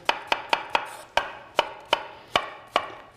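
A knife chops through yellow squash on a board with about ten sharp, evenly spaced thwacks, close and clear with no talking.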